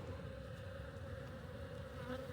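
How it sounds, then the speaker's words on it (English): Agitated honey bees swarm around an opened hive during a cold-weather inspection, their steady, dense buzz filling the air continuously and close by. "anytime I touch a bee or squeeze a bee too much, they are getting agitated by it"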